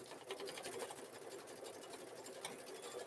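An embroidery machine stitches out free-standing lace, its rapid needle chatter running as a steady, dense mechanical whir at close range throughout, with no voices.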